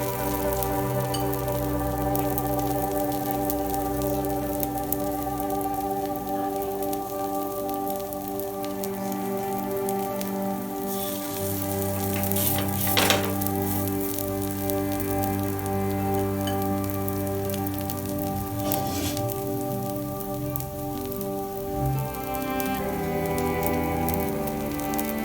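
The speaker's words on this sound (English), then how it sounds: "And fry it." Poha cheese balls frying in hot oil, a steady dense crackle and sizzle throughout with a few louder pops, close and continuous, no voices.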